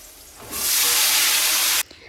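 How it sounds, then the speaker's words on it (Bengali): Vegetables hit a pan of fried onion, garlic and green chili with a sudden loud hiss that holds steady for over a second, then cuts off abruptly into quieter background. "পেঁয়াজ, রসুন আর কাঁচা লঙ্কাটাকে ভেজে নিয়েছি, এখন সবজিটা দিয়ে দিব"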